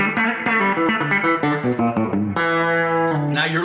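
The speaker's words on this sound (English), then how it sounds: "Now you're listening to a Fender Twin with just a slight bit of reverb, a Fender Twin Tone Master" Electric guitar with a biting back pickup played through a Fender Twin Tone Master amp with slight reverb, a quick run of picked notes ending in a ringing sustained chord, clear and loud with no talk.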